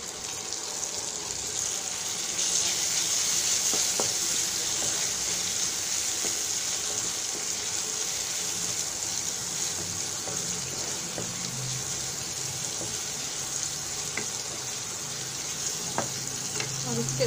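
Grated ginger fries in a pan for vegetable Manchurian, producing a continuous close sizzle with intermittent stirring scrapes and light clinks.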